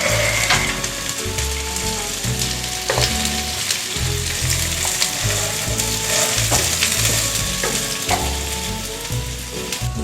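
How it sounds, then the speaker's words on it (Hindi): Loud, continuous crackling sizzle of white cumin and soaked green gram (moong) hitting hot oil, with mechanical scraping and stirring clicks running through it and no talk. "तेल हमारा गर्म हो गया, इसमें हम सफ़ेद ज़ीरा ऐड कर रहे हैं, 1 टीस्पून। ज़ीरे के साथ ही हम इसमें भीगे हुए मूंग शामिल कर रहे हैं।"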